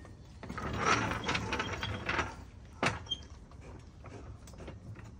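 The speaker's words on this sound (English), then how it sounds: "Good old Harbor Freight jack kicking in." A Harbor Freight floor jack ratchets under a 1959 Chevy El Camino with an X-frame, a series of close metallic clicks and clunks pumping in an uneven rhythm, with one sharper clank midway.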